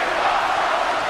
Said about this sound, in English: the crowd is loving this matchup